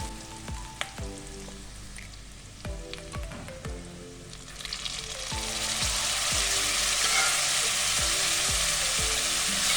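Boiled dal poured into a hot pan with turmeric: scattered clinks and taps give way to a loud, steady, hissing sizzle that swells and holds close by.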